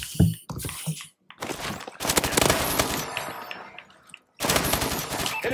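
Gunfire in Call of Duty: Advanced Warfare, with loud bursts of rapid automatic fire separated by brief pauses and a few single shots at the start.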